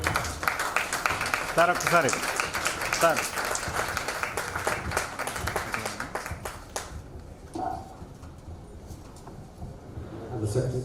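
Clapping from an audience at a chapter launch event in Vijayawada, a loud sustained burst that thins out after several seconds as someone speaks briefly over the room.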